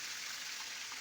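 Titus fish frying over low heat in a shallow pan with little oil, a steady close sizzling hiss that runs unbroken throughout.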